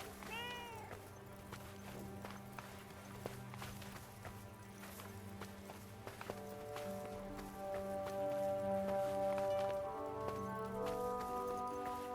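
A cat meows in the video game Forspoken, its short cries rising over a steady bed of game music and ambience that swells louder toward the end.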